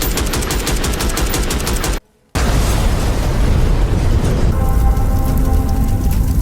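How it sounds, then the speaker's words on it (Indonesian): Bomb explosion in a gangster film, a loud sustained roar of blast and debris that cuts out briefly, then returns as a heavy rumbling boom fading into lingering crackle. "Namun selang tak lama bom tersebut pun meledak."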